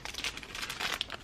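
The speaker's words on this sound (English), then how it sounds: "Next, there is a plastic bag full of goodies." A plastic bag full of Tokyo Disney goodies from a mystery box crinkles and rustles as it is handled up close, in quick irregular bursts.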